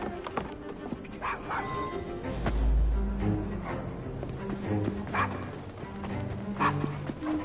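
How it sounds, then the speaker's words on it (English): A dog barks and yips repeatedly in a Victorian London street in the video game Assassin's Creed Syndicate, set among ambient game sounds and background chatter. "Nice doggy."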